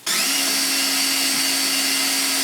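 A power drill spins up and runs at a constant high-pitched whine, close and loud, boring into thick aluminum without pause.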